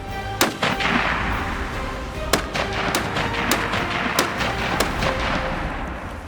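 Sharp, loud gunshot cracks ring out during a deer hunt, several reports spread irregularly over a few seconds above a constant rushing outdoor background.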